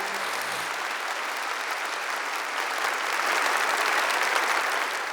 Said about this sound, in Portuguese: Vamos aplaudir a palavra de Deus, mas com força, com ânimo, com coragem.